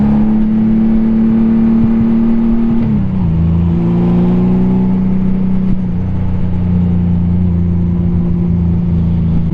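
A Honda Goldwing motorcycle engine hums steadily while riding, a loud, continuous mid-pitched drone with a shift in pitch partway through, wind and road noise underneath.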